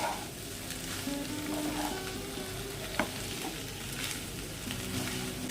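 Jackfruit and prawn curry frying and being sautéed with spices in a pan, a steady close sizzle with stirring scrapes and an occasional clink, no voices.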